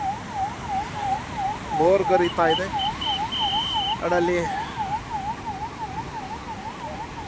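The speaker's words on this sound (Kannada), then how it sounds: "ಆಂಬ್ಯುಲೆನ್ಸ್ ಬರ್ತಾ ಇದೆ." An ambulance siren wails in a steady rising-and-falling pattern through jammed traffic on a road where horses are also stuck, with short horn blasts and someone talking over it.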